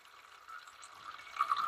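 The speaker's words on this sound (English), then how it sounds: "Now the water's gurgling and it's trying to come out." Water drains from an opened lawn irrigation system drain valve into a small bucket, giving a faint, soft, steady gurgle and trickle with no voices.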